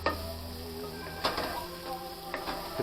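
Shallots and garlic sautéing in grease in a pan for a tandoori chicken curry, a steady close sizzle with a few clicks of stirring and a faint background hum.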